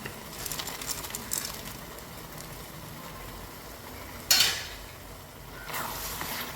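Soft scraping and light clinks of a utensil stirring in a pan, with a faint sizzle underneath and a sharper knock midway.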